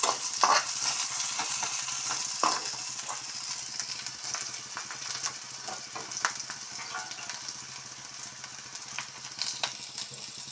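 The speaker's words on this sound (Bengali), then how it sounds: "পেঁয়াজগুলোকে বেশি ভাজবো না" Onions frying lightly in a pan for a Bangladeshi dried-fish (shutki) dish: a steady, close sizzle with crackles and occasional stirring scrapes, no voices.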